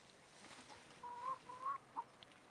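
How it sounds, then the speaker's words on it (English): Hens cluck in short bursts, a few quick calls standing out faintly over steady background noise. "these are the typical hens"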